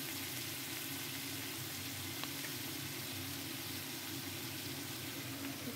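Pea curry with coriander leaves and chopped tomato sizzling and being stirred in a pan, a steady close frying hiss with a low continuous hum beneath.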